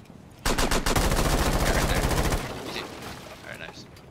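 Automatic gunfire rips through a barricade in the Rainbow Six Siege video game, a loud rapid burst of about two seconds followed by quieter clattering and debris, with faint voices in the background.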